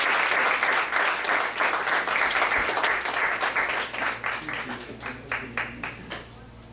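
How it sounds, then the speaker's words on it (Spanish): A church congregation gives loud sustained applause that thins into scattered individual claps toward the end, with no talking over it. "lo recibimos con un fuerte aplauso"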